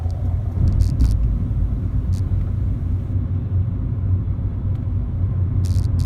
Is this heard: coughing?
no